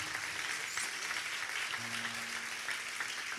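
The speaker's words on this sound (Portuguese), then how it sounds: "dando uma forte salva de palmas ao Senhor Jesus" Church congregation applause welcoming a pastor at a conference, a dense, even wash of many hands clapping, distant and fairly faint, with a faint hum partway through.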